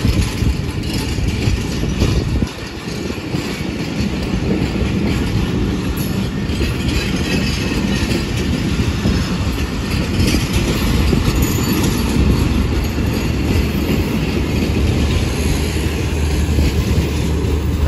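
The Pakistan Express passenger train rolls through Landhi railway station, a loud, continuous rumble and rattle of wagons on the rails with clickety-clack running throughout and no talking.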